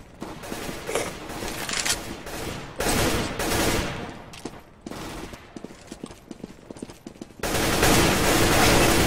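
Automatic rifle spray in the CS:GO video game, several loud rapid bursts of gunfire separated by short pauses, ending in a longer sustained stretch of shooting, close and with no talk.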